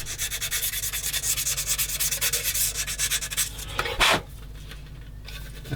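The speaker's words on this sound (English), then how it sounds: "another little sand over." Steady rhythmic rubbing of sandpaper over a 1/16 scale model of a British M10 IIC Achilles tank destroyer, close and continuous strokes, ending with a brief louder scrape near the end.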